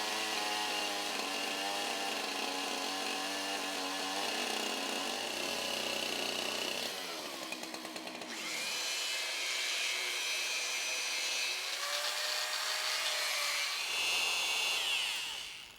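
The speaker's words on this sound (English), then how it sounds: "Now we've taken the mantle off so we can trim the ends of it, cut it to length" A power saw cuts through the ends of a log mantle, whining loudly and continuously with shifts in pitch as the blade bites, bogs and frees up, with no break in the noise.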